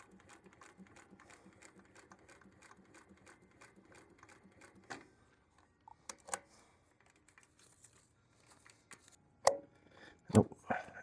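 A 1930s-era Singer 111W150 industrial sewing machine stitching leather and canvas, running in a quick, even run of mechanical needle strokes for several seconds, then stopping with a few scattered knocks and clicks as the work is adjusted.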